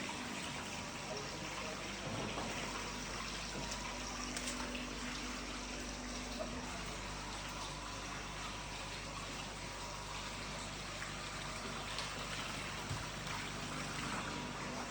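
Water trickling and gushing at a spring by a temple, a steady, moderately loud flow of splashing water running continuously and evenly throughout.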